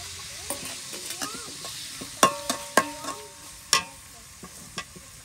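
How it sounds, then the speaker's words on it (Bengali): Spice paste frying in a pan while fish is being cooked, with sharp clattering stirs and taps of a utensil over a soft steady sizzle, close up and with no talk. "পেস্টে ভাজাও"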